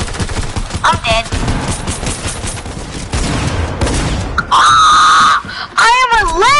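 Rapid bursts of video game gunfire crackle in fast volleys, with a shouting player talking over the shots and sharp electronic sweeping effects near the end.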